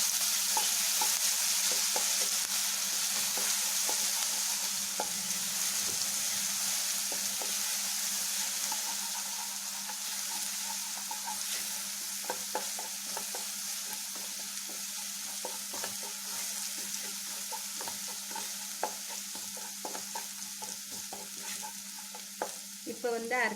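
Garlic and green chillies fry in oil in a pan for a paneer coconut milk gravy, with a steady sizzle and the scrape and tap of a spoon stirring at an irregular pace. No one speaks.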